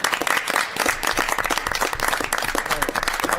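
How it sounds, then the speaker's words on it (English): Clapping breaks out in the room at a Portsmouth city council meeting, a brisk, loud round from a modest crowd with individual claps audible in the texture, continuing throughout. "Another round of applause."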